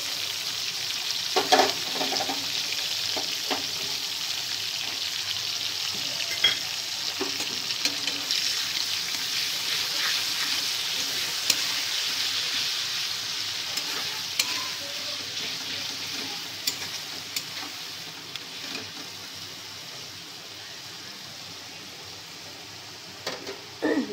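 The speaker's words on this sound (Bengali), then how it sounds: "তেলেতে এই টমেটোটা দিয়ে দেবো।" Tomato sizzling and frying in hot oil, a steady bright crackle throughout with occasional stirring clicks, fairly close and with no talk.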